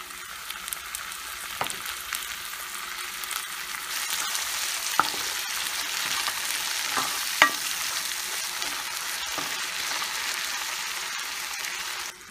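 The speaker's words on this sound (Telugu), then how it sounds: "టమాటా పేస్ట్ వేసుకున్నాక ఇది దగ్గర పడేంత వరకు కుక్ చేసుకోవాలి." Blended tomato paste for palak paneer curry sizzles and thickens in a pan, a soft crackle that grows steadier midway, marked by occasional sharp clinks and scrapes of a spoon, with no one speaking.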